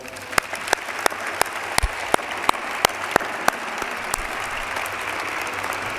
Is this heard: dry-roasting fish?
no